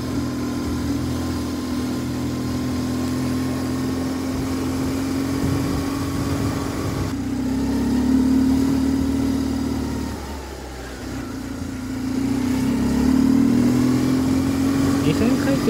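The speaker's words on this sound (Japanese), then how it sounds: "スロットルをちょっと開けるとね、こ うエンジンの" A BMW R850R boxer-twin motorcycle engine heard on a ride, a steady droning hum with wind rush that swells twice as the throttle opens, while someone talks throughout.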